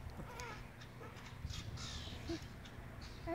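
Crow cawing outdoors near a road while small birds harass it, its calls fairly distant against steady background noise and faint chirps.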